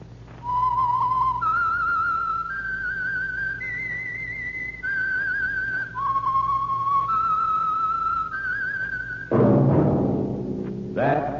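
A lone whistled theme from the old radio mystery program The Whistler, a slow, clear, close melody of held notes stepping up and down, ending with a brief burst of orchestral sound.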